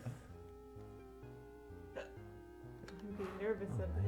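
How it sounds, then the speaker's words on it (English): A parrot hiccups while playing a video game, giving a few short, soft hiccups over steady electronic game tones, with people talking toward the end. "You always get hiccups when you're playing."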